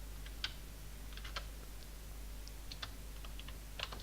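Quiet, irregular clicks of keys on a computer keyboard while a formula is typed into an Excel spreadsheet, with scattered single taps and short bursts over a low steady hum.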